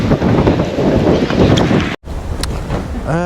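Strong wind hammers the microphone on an Amsterdam street in loud, continuous low rumbling, cutting out briefly midway before resuming more softly.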